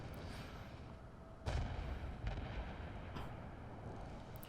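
Naval gunfire in World of Warships as a Colorado battleship fires salvos at a broadside destroyer: a heavy, booming blast rises sharply out of a dense rumbling background, then smaller thuds follow.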